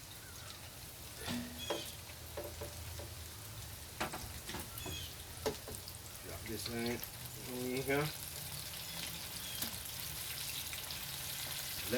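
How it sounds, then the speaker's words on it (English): Mustard-coated chicken wings frying in a pan, a soft steady sizzle with scattered crackles and pops running beneath a voice speaking briefly. "Let that start frying up."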